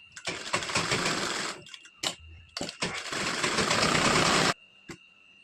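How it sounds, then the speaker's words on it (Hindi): A sewing machine stitching the lining of a four-tuck blouse, running in loud rapid bursts that stop and start, with one long continuous stretch of stitching before it halts and a few faint clicks follow. "इसके बाद हम अस्तर को अटैच करेंगे, पूरा सभी तरफ सिलाई लगाएंगे।"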